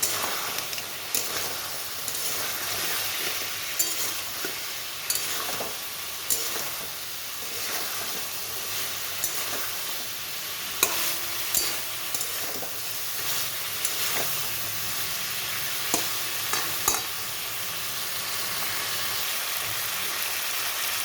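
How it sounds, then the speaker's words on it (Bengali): Potatoes and prawns that were fried earlier are stir-fried together in a pan, giving a steady close hiss of frying with recurring scrapes and clatters of a spatula throughout, with no voices. "ভেজে রাখা আলুটা আর চিংড়ি মাছটা দিয়ে এটাকে ভালো করে আবার কষাতে হবে"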